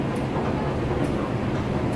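Hong Kong MTR train heard from a station, a steady low rumble and rolling rail noise with faint squeaks, continuous and moderately loud, no talk.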